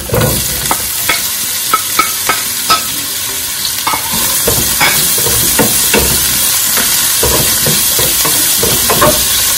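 Onion sautéing in a pan for adobong chicken feet: a steady, loud sizzle and frying hiss running throughout, broken by repeated scraping stirs of the spatula against the pan.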